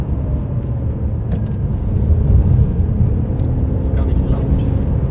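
A 2008 Ferrari 599 GTB Fiorano with a six-speed manual gearbox pulls away under acceleration, its deep engine rumble rising steadily from inside the car while people talk over it.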